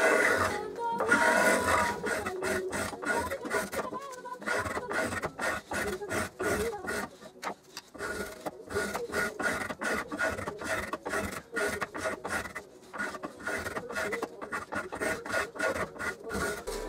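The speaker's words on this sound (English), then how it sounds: "Later I switched to using a spoke shave," A spokeshave shapes salvaged oak in repeated short rasping strokes, close and fairly steady in rhythm, with brief pauses between passes.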